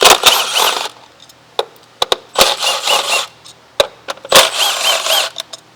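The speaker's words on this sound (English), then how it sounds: "So now with the 8mm socket, I'm gonna go ahead and remove these bolts." Bolts being removed with an 8mm socket on a 2014 Mazda CX-5 during spark plug work, loud bursts of ratcheting or power-tool whirring alternating with sharp metallic clicks and clinks close by.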